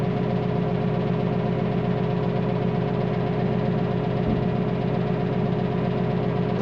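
A tractor engine revs at harvest, a loud, steady mechanical drone with a constant hum throughout and a brief low thump partway through, with no talking.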